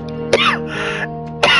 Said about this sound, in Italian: Scusate ragazzi per la tosse.